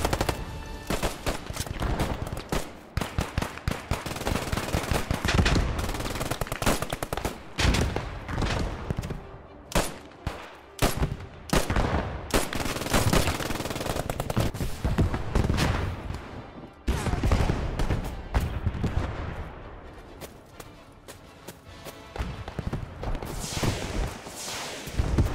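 Gunfire in the Squad 44 battle at Foy: dense, loud bursts of machine-gun and rifle fire with repeated sharp cracks and overlapping volleys, near and distant, running almost continuously with brief lulls.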